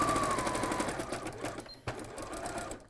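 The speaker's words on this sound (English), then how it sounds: "then sew either side of them" A sewing machine runs steadily while stitching fabric pieces for a stuffed bunny toy, a close continuous whirr with a brief stop near the end before it starts again.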